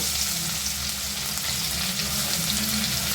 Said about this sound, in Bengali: এখন আমি পেঁয়াজ ভেজে নেব।